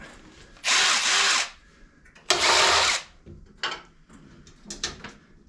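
An impact tool zips a 13 mm bolt off a Ford truck front fender in two loud, whirring bursts about a second each, followed by softer clinks and handling noises.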